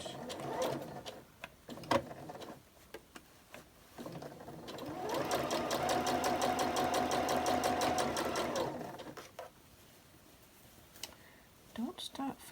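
A domestic sewing machine back stitches in a fast, steady mechanical whirr lasting a few seconds, with a voice talking and handling clicks before and after it.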